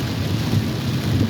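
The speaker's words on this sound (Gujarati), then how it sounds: "બધો ભયંકર વરસાદ છે" Heavy night rain with thunder near highway 48 between Chikhli and Navsari, a dense, loud, continuous roar of rainfall with a deep rumbling undertone, briefly heard.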